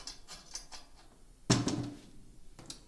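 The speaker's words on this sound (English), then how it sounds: "What I usually do first is just finger tighten all the screws." Snare drum lug screws are finger-tightened, giving quiet metallic ticks and light taps with one sharper knock partway through, all close and sparse.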